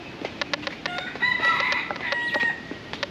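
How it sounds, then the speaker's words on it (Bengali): A rooster crows at a bird park in Kuala Lumpur, Malaysia, a drawn-out call standing out against a busy backdrop of other birds chirping and clucking nearby. "মোরগ ডাক করতেছে"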